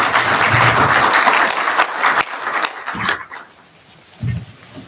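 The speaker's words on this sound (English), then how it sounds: "And so another round of applause, please." A conference audience at a NIME paper session applauds after a presentation, a dense burst of clapping for about two seconds that breaks into scattered claps and fades, with a brief low thump near the end.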